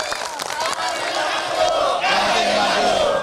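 Supporters at an election debate cheer and shout in a loud, sustained crowd roar with scattered applause, filling the whole stretch without a break.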